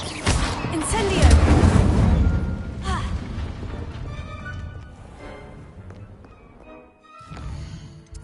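Incendio fire spell cast in Hogwarts Legacy, a loud burst of roaring flame and crackling blasts up front that fades into quieter game ambience, with a brief flare near the end and a voice speaking over part of it.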